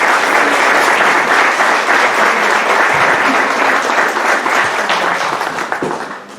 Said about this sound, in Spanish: Recibamos con un aplauso, por favor